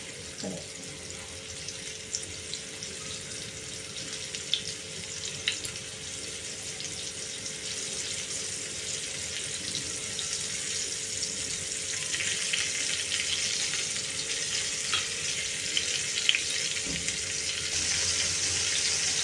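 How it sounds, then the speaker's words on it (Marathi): Fresh Bombay duck (bombil) fish frying in a pan over low gas flame, giving a steady, continuous sizzle that holds at moderate level throughout with faint crackles and no talk. "जरा ना मंद गॅसवरच फ्राय करायचे आहेत आपल्याला।"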